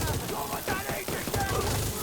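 Rapid gunfire in a first-person shooter video game aimed for a headshot, a dense run of sharp shots fired in quick succession, loud and close, with no voice over it.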